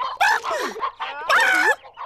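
Cartoon chickens cluck and squawk in two loud, bright bursts with a short pause between them, rising and falling calls close up and alone.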